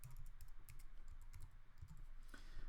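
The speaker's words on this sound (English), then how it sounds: "I'm going to type File Vault." Steady typing on a computer keyboard while entering a setting on a Mac, a quiet run of close key clicks with no talk.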